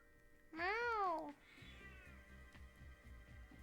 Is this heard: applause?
no